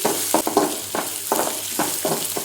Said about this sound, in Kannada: ಇದೇನು ತುಂಬ ಒಗ್ಗರಣೆ ಒಳಗೆ ರೋಸ್ಟ್ ಆಗಬೇಕು ಅಂತಂದೇನಿಲ್ಲ, ಸ್ವಲ್ಪ ಜಸ್ಟ್ ಬಿಸಿ ಆದರೆ ಸಾಕು